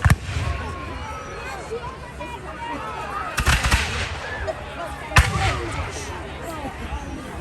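Musket volleys crack out during a War of 1812 battle reenactment outdoors, with a sharp shot at the start and louder bursts near the middle and later, over a steady bed of crowd murmur and distant talk.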